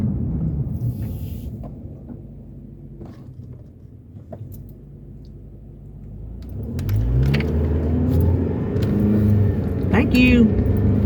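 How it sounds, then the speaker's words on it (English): A car engine rumbles and rises as the vehicle approaches and passes on a road near a budget rental truck, growing louder toward the end, with people talking throughout. "Oh, there's a car."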